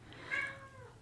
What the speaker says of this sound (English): I love that he just like meowed on cue.